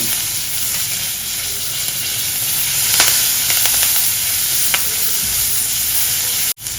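Steady, loud sizzling of chillies and curry leaves frying in hot oil, with a few crackles and pops, continuous and without any talking.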